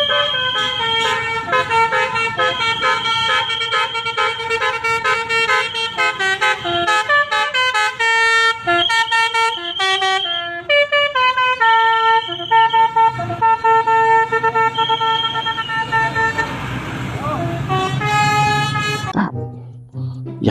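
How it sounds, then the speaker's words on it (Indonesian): Tunggal Jaya intercity bus sounding a loud multi-tone musical horn, a rapid melodic sequence of honks lasting about twenty seconds, ending with engine rumble as it passes close by. "kali ini ada bus Tunggal Jaya Kids Panda teman-teman"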